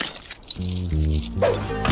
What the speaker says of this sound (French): Ce chien qui t'empêche de dormir.